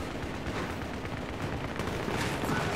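Sustained gunfire from a weapon in Battlefield 3 on the Metro map, a dense, continuous spray of shots mixed with booming battle noise, loud and unbroken throughout.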